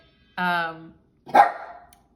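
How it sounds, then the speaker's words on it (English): A small dog gives two separate barks close by: the first a drawn-out, whiny yelp, the second a shorter, rougher bark about a second later, with quiet between them. "so excuse the little barks, such is life"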